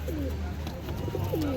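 A pigeon coos a few times at an open-air pigeon market in Nazrul Udyan, the soft rolling calls fairly faint over a low murmur of market background noise.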